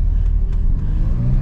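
McLaren 570GT supercar engine running at close range, a steady low rumbling drone that holds throughout the moment without any voices.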